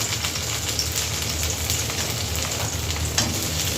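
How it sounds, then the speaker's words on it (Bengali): Potatoes and teasel gourd frying in hot oil in a kadai, a steady close sizzle and crackle with no voices over it. "তেলটা গরম হয়ে গেছে আমি আলু আর কাঁকড় সুন্দর করে একটা একটা করে"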